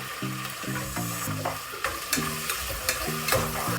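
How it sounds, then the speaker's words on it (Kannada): Onions frying in a pan for a home-cooked festival meal, a steady sizzle under repeated scraping and stirring strokes, close by and moderately loud, with a faint tonal hum in the background. "ಸಾಕು ಫ್ರೈ ಆಗಿದ್ದು"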